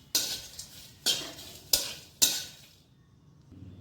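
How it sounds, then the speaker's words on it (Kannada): Ajwain seeds dry-roasted in a pan over a low flame for homemade North Karnataka red chilli masala powder. Four sharp scraping strokes of a spoon against the pan are followed by a faint, quiet tail. "ಈಗ ಅಜ್ವಾನ ಹುರ್ಕೋಬೇಕು. ಸಣ್ಣ ಉರಿ ಇಟ್ಟು ನೋಡಿ, ಇದಕ್ಕೆ ಒಂದು ಸ್ವಲ್ಪ ಬಿಸಿ ಮಾಡ್ಕೋಬೇಕು."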